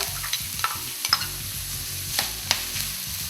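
Green chilies and ginger fry in a pan, giving a soft, steady sizzle. A few brief spatula clicks and scrapes land over a low, pulsing background hum.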